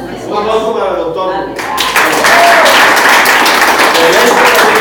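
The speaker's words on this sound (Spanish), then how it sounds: "Un aplauso para el doctor." Audience in a church service breaks into applause for a doctor; dense clapping swells in after a voice fades and fills the rest of the stretch, loud and close.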